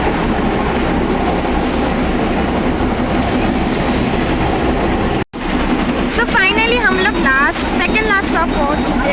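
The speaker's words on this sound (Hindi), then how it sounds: "यहाँ की जो टॉय ट्रेन आप देख रहे हैं ये सिर्फ दार्जिलिंग से होम तक की सफ़र करता है" Darjeeling toy train running on narrow-gauge rails along the New Jalpaiguri to Darjeeling line, a loud continuous rumble and rattle of wheels on track, cutting out for a moment before a voice speaks over the ongoing train noise.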